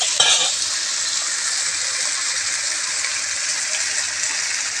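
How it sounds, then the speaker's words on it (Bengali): Onion paste frying in a pan while being stirred, cooked for an egg dish: a loud, steady hiss and sizzle, close, with a brief scraping burst at the start, no talk. "আর এখন ভালো করে নেড়ে চেড়ে নিচ্ছে মা"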